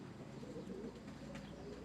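Shakriya pigeons cooing at close range: soft, low, throaty coos repeat in a steady, continuous murmur with no talk.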